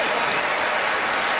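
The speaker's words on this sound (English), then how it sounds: "Let's give them a big round of applause." An audience applauds in a magic show studio, a thick, even wash of clapping that holds steady and loud throughout, with no voices over it.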